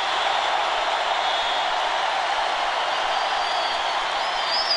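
A football stadium crowd at a 2006 Arkansas at Auburn game roars steadily on its feet, a dense, unbroken wall of cheering that holds at full volume throughout.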